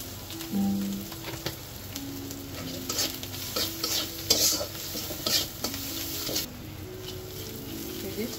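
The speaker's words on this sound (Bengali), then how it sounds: "সামান্য হলুদ, সামান্য মরিচের গুঁড়ি, ভালোভাবে কষে নিব।" Eggplant stir-fries in a pan with turmeric, chili powder and coriander powder, giving a steady sizzle with repeated scraping of a spatula against the pan, and some faint talk underneath.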